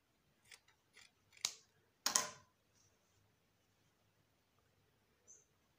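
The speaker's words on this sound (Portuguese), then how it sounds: "Venho sobrepondo e cortando." Scissors cut through tricoline cotton fabric in a quiet room, a few crisp close snips spaced irregularly, the loudest near the middle, then near silence with one faint final click.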